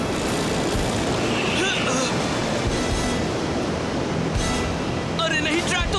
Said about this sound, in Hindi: पानी बहुत तेजी से चढ़ रहा है।